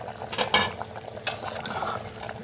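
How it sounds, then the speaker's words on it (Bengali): Tandoori egg and potato curry bubbles in a pan while a utensil scrapes and stirs, a close, steady simmering sizzle with occasional metallic clinks. "এখানে দেখো খুব ভালোভাবে কিন্তু ফুটে গেছে তন্দুরি আলুর ঝোলটা"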